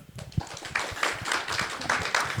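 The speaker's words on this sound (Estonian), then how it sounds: "teeme suure aplausi meie esinejatele" Audience applause for presenters at an Estonian talk on maritime transport and port operations, a dense steady patter of many hands clapping at close range after a brief quiet start.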